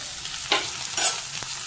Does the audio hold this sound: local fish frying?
yes